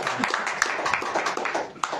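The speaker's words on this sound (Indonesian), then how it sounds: "Kasih tepuk tangan buat mama mertua" A church congregation gives steady, dense applause, many hands clapping together at close range for a couple of seconds.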